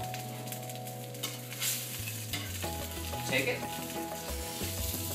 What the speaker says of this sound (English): flip it, get that nice sear